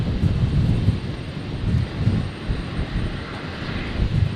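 An airliner rolls for take-off on runway 01 right at Brisbane on a stormy night, a deep steady engine roar that surges and fades in low rumbling waves, heard from a distance with no voices.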